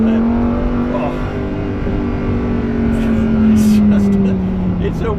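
Engine of a Lamborghini Huracan Evo RWD pulling hard on an icy road, a loud steady drone rising in pitch through a gear change, with someone talking over it.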